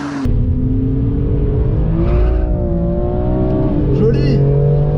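A GT3 circuit race car engine accelerates on a track, loud and close, its pitch climbing and dipping through revs and gear changes, with steady road and wind roar underneath.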